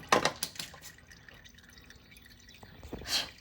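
Used, dark DSG dual-clutch transmission fluid drains from a VW GTI, with several close, distinct drips falling early and again near the end, separated by a quiet trickle.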